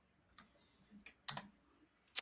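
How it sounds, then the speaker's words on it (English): Faint, sparse clicks of computer keyboard typing come from the background during a live panel discussion, a few separated taps and a short cluster, quiet and distant. "I was just like hearing typing and I got distracted for a second."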